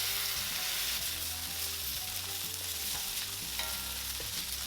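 Sauce sizzling in a pan with a cooked sausage, shrimp and mushroom mixture and garlic, a steady loud frying hiss with occasional stirring clinks, close up and without talk.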